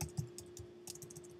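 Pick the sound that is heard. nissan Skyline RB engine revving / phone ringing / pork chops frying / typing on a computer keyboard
typing on a computer keyboard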